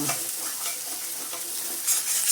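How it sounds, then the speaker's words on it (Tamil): Ginger garlic paste fries in a pan on low heat, giving a steady close sizzle while being stirred, with soft scraping strokes throughout. "இஞ்சி பூண்டு பேஸ்ட்டு போட்டால் கொஞ்சம் ஒட்டும், அதனால் சிம்மில் வச்சுருக்கேன்."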